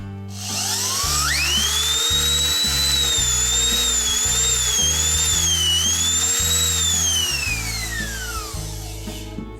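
A repaired Oster Clipmaster cattle clipper motor whirs up to a high, steady whine that wavers slightly in pitch, runs for several seconds close by and then winds down.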